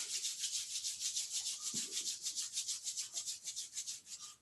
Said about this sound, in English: and then rub your hands